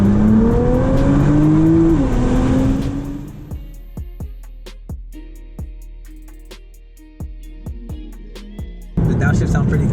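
A stock Nissan GTR accelerates hard with a rising engine note, then downshifts through a run of sharp popping, crackling blips as the revs drop, before the engine swells again at the end; a voice talks over the start.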